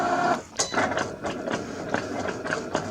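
A Cricut cutting machine cuts window cling with a close, steady mechanical whir, broken by repeated ticking, clicking carriage movements. No one speaks.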